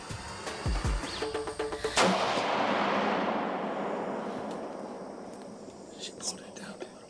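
One loud rifle shot at a youth deer hunt in low country cracks and then rolls away in a long fading echo. Voices talk quietly before it.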